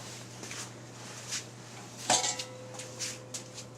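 Nested camping cookware, pots and a skillet, clanks and scrapes as the pieces are lifted and separated, with one sharper metallic clang midway among lighter rattles over a steady background hum.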